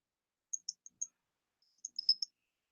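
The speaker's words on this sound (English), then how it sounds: "I'm typing Arabic." A short run of faint, crisp clicks from keys typing Arabic text on a computer: four quick taps, a pause, then a tighter cluster of taps, set in otherwise silent surroundings.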